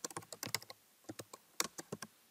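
Quiet typing of a group name on a computer keyboard in the Mendeley reference software, a few short bursts of soft, distinct key clicks separated by brief pauses, with no speech.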